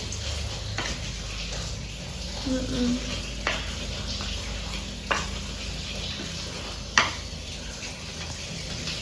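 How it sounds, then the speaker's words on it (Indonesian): Chili peppers frying in oil in a pan give a steady, close sizzle, with a few sharp utensil clicks on the pan and faint talk in the background. "Tak goreng kabeh ya."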